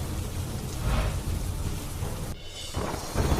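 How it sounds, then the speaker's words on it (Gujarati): Steady rain hisses under low rumbles of thunder during a monsoon storm in north Gujarat, with a deeper roll swelling around the middle and again toward the end. "વિસનગર, વડનગર, બેચરાજી, કડીમાં વીજળીના કડાકા સાથે મેઘરાજા થયા મહેરબાન."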